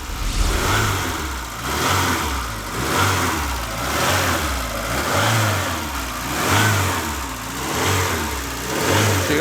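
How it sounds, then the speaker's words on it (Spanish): A 1992 Ford Escort XR3 Cabriolet's 1.8 engine revs repeatedly, loud and close, climbing and falling in a regular rhythm of about six rises with no one talking. "Llegamos al motor del Escort XR3, un motor súper rendidor, de buen funcionamiento, de buenas prestaciones."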